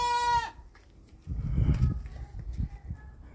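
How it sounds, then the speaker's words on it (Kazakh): A purebred Dutch Saanen dairy goat gives one clear, wavering bleat at the start, followed by quieter rustling and shuffling nearby. "Мынау біздің красавица. Голландский занят ешкі."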